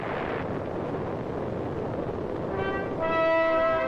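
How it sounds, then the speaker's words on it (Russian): The Tsar Bomba, a 50-megaton hydrogen bomb, detonates in a deep, continuous roaring rumble, with sustained musical tones rising over it in the last second. "был произведен взрыв чистой водородной бомбы с тротиловым эквивалентом"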